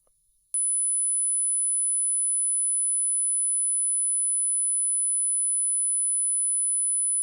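A single steady, piercing high-pitched sine tone at 10,000 Hz starts abruptly after a brief quiet moment and holds at constant loudness to the end, with no other sound.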